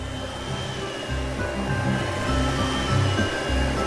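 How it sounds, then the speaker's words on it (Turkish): A cartoon vacuum cleaner hums steadily as it cleans the floor, a continuous loud motor drone with shifting low tones and no speech over it. "Elektrikli süpürge yerleri temizliyor."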